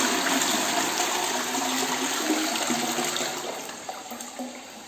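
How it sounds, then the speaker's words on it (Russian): A Sensea Ekko floor-standing toilet with horizontal outlet flushes its full tank in one go, a close, steady rush of water that swirls and then slowly tapers off as the bowl drains. "На самом деле слив здесь одинарный, сразу сливается весь бачок."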